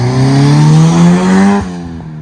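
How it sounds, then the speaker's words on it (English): A Honda Civic race car of about 1100 hp roars past close by, a loud rising engine tone that peaks and then drops sharply as it passes. "Are we gonna get a Racer flyby?"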